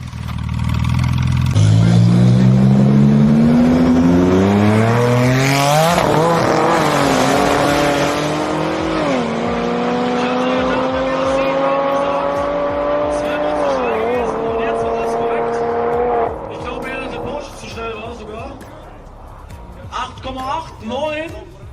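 Loud 1,800-horsepower race car engines rev and accelerate at length, pitch climbing through gear changes, roaring close by before fading toward the end.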